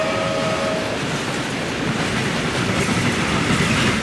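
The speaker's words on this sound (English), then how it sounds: "they saw the Northwestern Express train roaring toward them from the other direction" A Northwestern Express train roars along the tracks near a station platform in Winnetka: a loud, continuous, close rumble with rattling wheel noise and a brief steady tone at the start.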